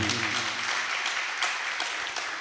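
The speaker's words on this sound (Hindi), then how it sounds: "ताली नहीं बजाओ" Audience applause at a Hindi spiritual discourse, a steady wash of many hands clapping at once that carries on evenly for a couple of seconds.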